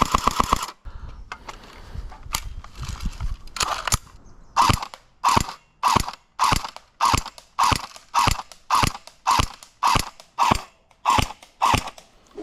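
Electric blowback airsoft submachine gun firing full auto at about eight rounds per second, close, sharp mechanical clacks: a busy rattling burst first, then a slower string of evenly spaced loud cracks.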